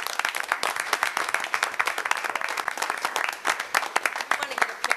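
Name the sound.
audience applause at school board meeting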